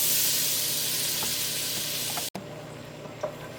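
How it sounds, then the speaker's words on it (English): Butter melting in a pasta pot gives a steady close sizzle and hiss that runs throughout, cut by a brief break and followed by softer frying with a small clink. "Add your butter and let that melt."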